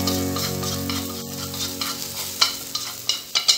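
Vegetarian fruit fried rice is stir-fried in a pan, giving a steady close sizzle with irregular scraping strokes that sharpen into distinct spatula knocks toward the end, over a low steady hum.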